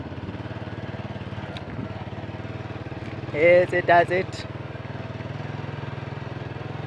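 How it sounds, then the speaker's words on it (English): A TBS four-gear motorcycle rolling slowly in second gear, its engine throbbing steadily and close throughout, while someone speaks briefly over it. "Right now I'm going slowly because I'm teaching you guys how to ride a motorcycle."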